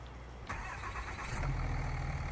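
A tractor engine starts in a farming video game set in a forest: a sudden crank and catch, then a steady mid-pitched idle that swells slightly, heard close with no talking.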